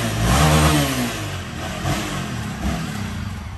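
A new motorcycle engine revs loudly at the start, then settles into a lower, steady rumble with a few small throttle blips, close to the microphone and with no talking.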